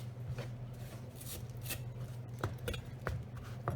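A knife chops banana chilies on a cutting board, scattered sharp taps that grow more frequent toward the end, heard close over a low steady kitchen hum.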